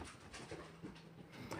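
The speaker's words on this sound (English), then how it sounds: "that damn puppy, man. It's just into every damn thing." A puppy pants quickly and steadily at close range, with faint whimpering mixed into the breathing throughout.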